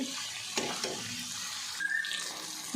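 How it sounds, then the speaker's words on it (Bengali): Boiled mutton sautés in spice masala in a pan over a lowered flame, a soft steady sizzle close by with scattered stirring scrapes and a brief metallic squeak, no voices. "মটনটা কষাবো আমি আঁচ কমিয়ে নিয়ে মটনটাকে কষাবো"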